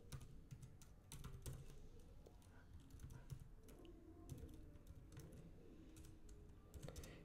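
Quiet clatter of keys on a computer keyboard, irregular bursts of typing with short pauses, heard close up without speech.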